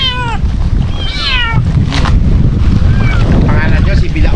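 A cat meows repeatedly near a river, several distinct drawn-out calls rising and falling over steady wind and water noise, with a person talking faintly at times.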